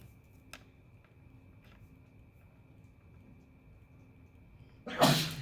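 A single loud, sharp sneeze bursts out near the end after several seconds of quiet room tone.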